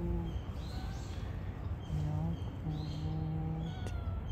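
A black cat on a street in Ikebukuro, Tokyo, lets out several faint drawn-out meows at intervals over a murmuring outdoor background.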